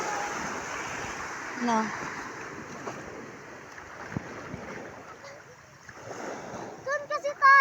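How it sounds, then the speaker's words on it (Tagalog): Ocean waves roll and splash on the beach at Bagac, Bataan, a broad washing surge under wind, while people nearby talk and call out over it. "Ayun yung alon."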